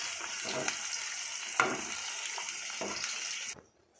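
Sweet corn deep-frying in hot oil as a snack: a steady, fairly quiet bubbling hiss with a few louder crackles. It cuts off sharply just before the end.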